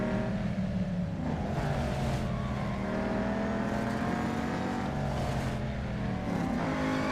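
Race car engine revving steadily in the Real Racing 3 mobile game, a loud continuous drone with rising and falling pitch as gears shift, no talking over it.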